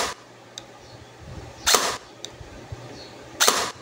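An AR16 80% metal blaster set to single-shot mode fires twice, about two seconds apart, each a sharp, loud, close crack over a quiet background with faint clicks.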